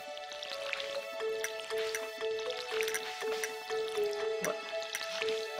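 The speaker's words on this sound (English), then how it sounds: "Gotta water these plants." Watering can pouring on crops in Stardew Valley, repeated soft splashing drips over a steady tonal game music background, moderately loud, no talking.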